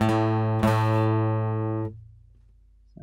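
A guitar string plucked while tuning, ringing with a steady low harmonic tone that sounds slightly flat, re-struck once partway through, then decaying into near silence before a faint new attack at the end.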